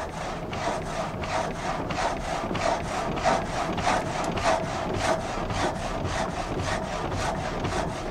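Water-powered frame saw at the Meisburg sawmill cutting logs into boards, a steady rhythmic rasping of the blade stroking up and down through wood, loud and continuous with evenly spaced strokes.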